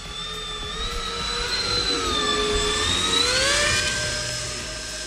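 A small RC model jet plane flies overhead, its turbine whine rising and sweeping in pitch as it passes, loud and steady throughout, with no talking.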